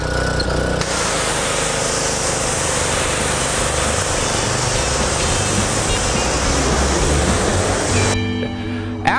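A pressure washer sprays an RV roof, a loud steady hissing blast of water that runs almost unbroken for about seven seconds, starting and stopping abruptly with a motor hum beneath.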